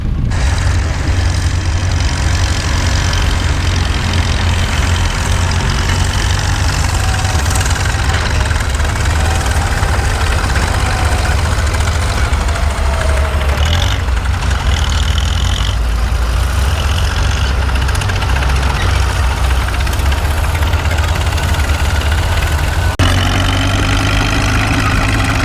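A 1938 Caterpillar D2 crawler tractor, a narrow-gauge first-year model, idling with a loud, steady, low chugging engine throb close by that holds for the whole stretch.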